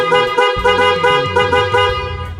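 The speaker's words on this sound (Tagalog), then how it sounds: "Ito po yung loud horn, sir." A loud aftermarket horn fitted to a Honda ADV motorcycle, sounding in several short, blaring honks close to the listener, a harsh buzzy tone with a rough low growl beneath it.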